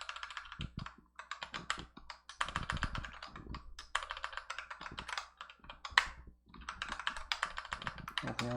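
Rapid clicking keystrokes on a computer keyboard come in quick bursts split by short pauses, close and crisp, with no speech.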